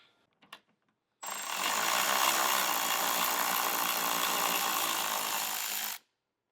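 A power tool, likely an impact driver or ratchet, runs continuously for about five seconds while backing out 10mm bolts from the underside of a 2024 Toyota Tacoma front bumper, loud and steady after a few faint knocks.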